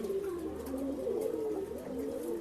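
Pigeons at a bird sale coo in a low, steady murmur, several birds overlapping in soft throaty rolls that run continuously through the short stretch with no talk.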